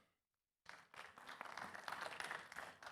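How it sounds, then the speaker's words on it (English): Subdued applause from a medical conference audience, starting abruptly after a short silence and continuing as a steady, moderate patter of claps without any talk. "Why the claps are so subdued?"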